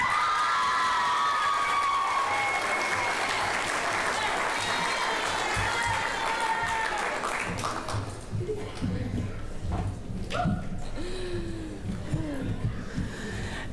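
An audience cheers and applauds a graduate at a graduation ceremony, with loud whoops and shouts over steady clapping throughout, plus a voice speaking now and then within the crowd noise.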